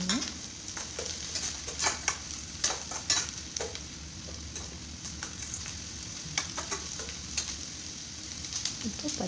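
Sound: sautéing onions in a pan for tomato pachadi

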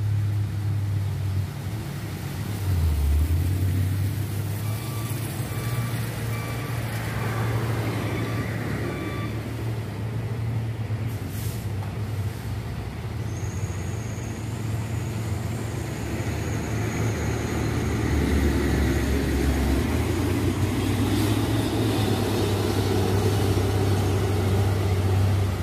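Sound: container trailer truck climbing steep hill

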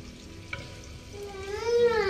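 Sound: elephant foot yam (jimikand) frying in oil

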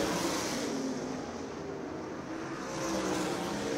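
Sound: super sprint cars racing at Colorado National Speedway

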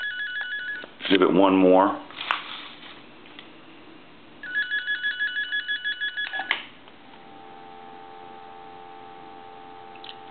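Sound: electronic telephone ringer ringing

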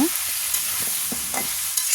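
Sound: potatoes and chicken frying in a pan

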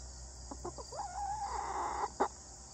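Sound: chickens

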